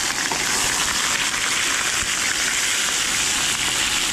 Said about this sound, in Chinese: 煎去两面金黄呀